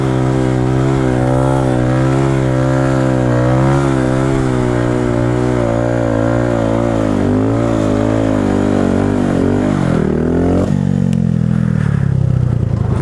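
Motorcycle engine revving hard and continuously during wheelies outdoors, loud and close with rising and falling pitch, ending in a sharp throttle change near the end.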